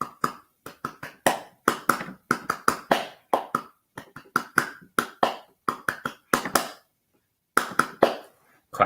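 One person claps along to the James Bond theme, close and crisp, in quick rhythmic bursts with short pauses between phrases and no other sound.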